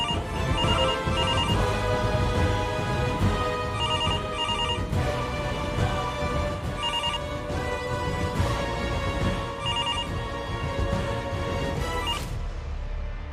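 A phone ringtone plays a loud, repeating melodic ring, looping continuously for over twelve seconds before cutting off.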